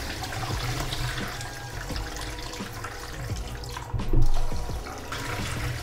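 Japanese rice being rinsed in cold water, running water splashing and sloshing steadily in a container, close and continuous with a brief louder swirl.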